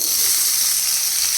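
Vegetables tossed into a hot pan with boiled Maggi noodles, a loud, even, close sizzle with a bright hiss and no talking.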